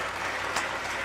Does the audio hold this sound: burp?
no